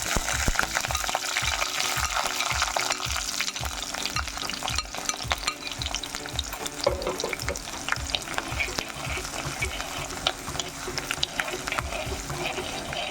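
Ginger, green chilli, garlic and shallots frying in hot oil with fenugreek seeds for a Kerala tuna fish curry, a loud continuous crackling sizzle with a quick rhythmic scraping of stirring throughout, no talk.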